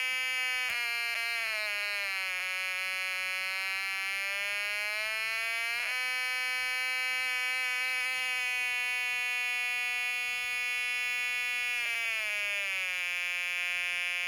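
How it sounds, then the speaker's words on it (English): A Snap Circuits whistle chip with a C1 capacitor fitted gives a continuous, harsh, low-pitched electronic buzz, loud and unbroken like a bee, with small pitch wobbles now and then and no voices. "With the C1 capacitor installed right above the whistle chip,"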